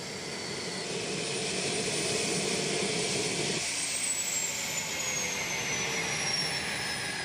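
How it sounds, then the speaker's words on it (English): A Marine-flown Lockheed C-130 Hercules transport nicknamed Fat Albert drones steadily and loudly with broadband turboprop roar, a low throbbing layer dropping away midway while a high whine slowly glides downward. "Marines fly Fat Albert, which is a Hercules C-130 transport."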